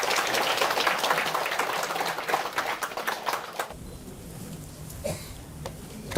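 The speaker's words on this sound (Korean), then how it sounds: "큰 박수 부탁드립니다." An audience at a Buddhist graduate school alumni summer training session breaks into dense, sustained applause that fades away after a few seconds, leaving a quiet hall with a few scattered claps.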